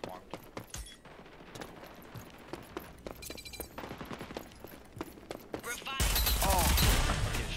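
Shotgun blasts and other gunfire in the online shooter Rogue Company come in scattered sharp bursts, and a heavy barrage swells up at the end, mixed with game sounds and a player's voice talking.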